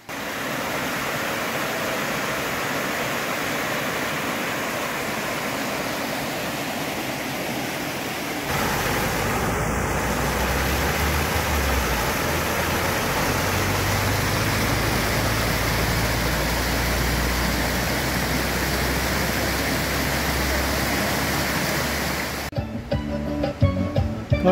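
Steady roar of the Cascata da Solitária waterfall in Igrejinha, Brazil, a continuous broadband rush of falling water, heard close and loud throughout with a deeper tone in the middle stretch.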